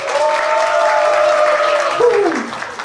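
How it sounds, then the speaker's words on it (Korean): Guests clap at a Korean first-birthday party (doljanchi) held in a wedding hall in Pohang, a steady wash of applause running the whole time beneath a sustained voice or tone. "박수 부탁드릴게요"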